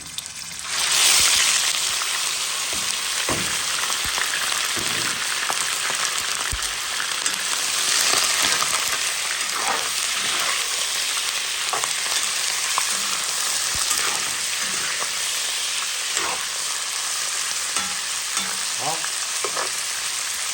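Pork pieces for pork with mushrooms fry in hot oil in a cooking pot, a strong continuous sizzle with repeated scraping and clanking of a spoon stirring the meat, close and without talk.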